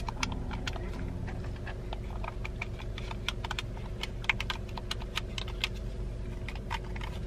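Clicky buttons on a Nintendo Switch Pro Controller are pressed in quick, irregular bursts of sharp clacks, close and steady throughout, over a low constant background hum.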